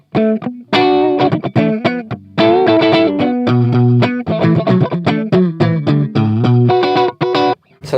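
Electric guitar played through a Hughes & Kettner GrandMeister Deluxe 40 amp with reverb switched off, dry distorted notes and chords in a quick melodic run, loud and close with brief gaps between phrases.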